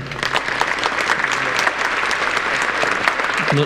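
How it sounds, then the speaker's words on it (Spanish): A congregation at Mass applauds a priest with loud, sustained clapping from many hands that continues evenly for several seconds, with a few voices faintly underneath. "le damos un aplauso al padre René."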